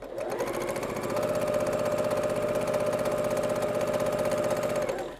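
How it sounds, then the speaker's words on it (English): A Burnett B08 straight stitch sewing machine runs continuously for about five seconds, a loud, close, rapid mechanical chatter with a steady hum as it stitches quilt fabric using a quarter-inch foot. "I am sewing on the new Burnett B08 straight stitch machine, and it does seem a little loud"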